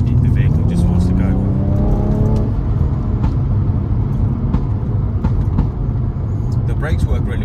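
A 2013 BMW M135i with a 3.0-litre engine and 8-speed automatic, accelerating in sport mode, with a loud steady engine drone and rising revs heard from inside the cabin throughout.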